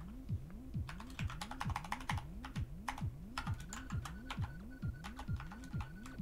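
Quick, irregular bursts of keystrokes on a computer keyboard, close and crisp, pausing briefly between flurries over a steady, low, warbling background tone.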